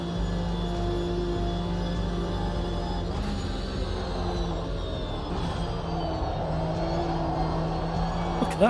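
Porsche race car engine in a racing simulator game, a steady droning hum with a low, sustained tone and small shifts in pitch as the car rounds corners, continuous and moderately loud throughout.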